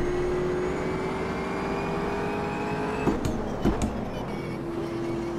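A race car engine in the sim racing game Automobilista 2 drones steadily at a constant pitch, with a few brief sharp knocks or shifts partway through and no talking.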